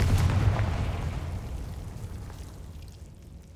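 A Confringo fire spell blast in the video game Hogwarts Legacy: a deep rumbling explosion that starts loud and slowly fades away over a few seconds, heard on its own.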